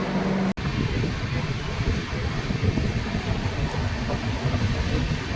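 A train pulling out of Santragachi station, a steady broad rumble of wheels and carriages with wind noise on the microphone, continuous and fairly loud throughout after a brief break at the start.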